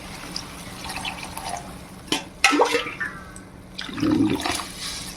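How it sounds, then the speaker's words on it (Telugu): Water poured from glasses into rice in a kitchen pot while making annam upma, a few splashing pours with short gurgling bursts, fairly close and alone. "4 గ్లాసులు నీళ్ళు పోసుకుందామండి."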